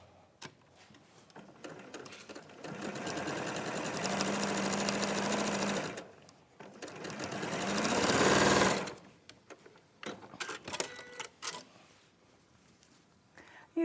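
A sewing machine stitches fabric pieces right sides together in two sustained runs, one steady and one louder and rising, then stops, leaving scattered quiet clicks and handling noises.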